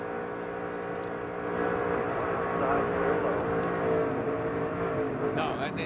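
A Chevrolet NASCAR race car at the 2007 Daytona 500 heard from on board, its engine droning at a steady high pitch with a slight rise partway through, moderately loud and continuous, with faint radio talk underneath.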